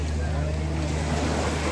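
Rough, dirty-looking sea churns at the Vizhinjam fishing harbour, a constant broad wash of waves and wind roar with a low engine-like rumble, heard close and unbroken.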